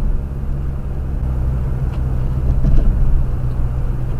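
A Ford Focus engine running rough, as if firing on only two cylinders, gives a low, uneven, continuous rumble from close by with a few faint knocks and no talking.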